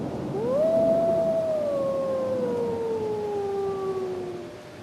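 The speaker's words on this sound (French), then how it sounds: "Au loin, il entend des loups hurler." A single long wolf howl carries from a distance, rising at first and then slowly sliding down in pitch over several seconds, with fainter howls overlapping behind it against a soft windy background.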